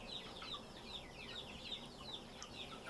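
Chickens in a warm barn, with repeated soft clucks and chirps spread steadily through the clip over a constant background hum, moderately close and fairly quiet, with no talking.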